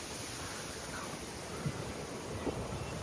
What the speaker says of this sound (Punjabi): ਝੋਨੇ ਤੇ ਹਵਾ ਚੱਲਦੀ ਆ